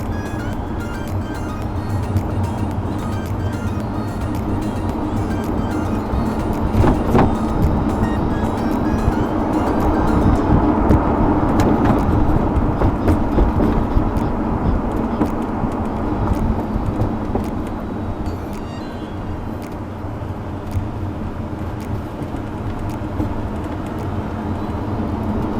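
An open-air roadster drives along while recorded on a dashcam, with continuous wind buffeting and road rumble mixed with engine noise, swelling slightly in the middle and staying loud throughout.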